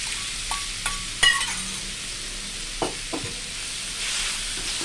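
Pork stir-fried with curry paste in a pan, steady sizzling broken by sharp metallic clinks and scrapes of a spatula against the pan, close and without talk.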